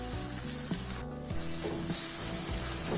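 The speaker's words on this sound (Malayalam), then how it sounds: "കറിവേപ്പില ഇട്ടിട്ട് നമുക്ക് ഒരു ശകലം ഉപ്പിട്ട് നമുക്ക് പെട്ടെന്ന് വഴണ്ട് കിട്ടും" Onions sautéing in a pan with curry leaves and salt for a fish dish, a steady soft sizzle with faint stirring scrapes, close and continuous.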